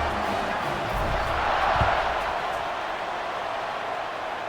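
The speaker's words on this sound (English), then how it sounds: "this crowd is feeling themselves after that last drive" A stadium crowd roars in a college football video game, EA Sports College Football 26, a broad, distant-sounding steady din that swells slightly midway and holds level.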